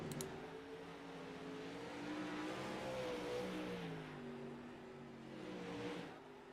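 Dirt late model race cars roar around a dirt track, engines droning and shifting in pitch as they pass, a steady mid-distance rumble that swells and fades.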